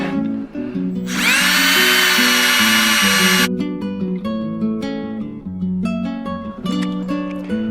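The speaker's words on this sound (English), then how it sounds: "We drill a hole into the tree." A power drill whines loudly for about two seconds boring a hole into a tree for a sap spout, while gentle background music plays throughout, then the drilling stops.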